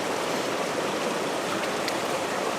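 Waterfall pouring into a cold stream at a campsite, a dense, steady rushing wash of water filling the air evenly with no breaks and no voices.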